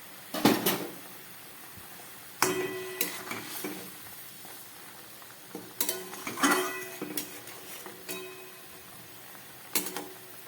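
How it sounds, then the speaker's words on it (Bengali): Vegetarian koftas for a pointed gourd mixed kofta curry go into a bubbling curry and are stirred, giving scattered bursts of utensil scraping and clinking against the pot over a soft simmer, with brief quiet gaps between. "এবার এই বানিয়ে রাখা কোপ্তাগুলো আমি দিয়ে দিচ্ছি।"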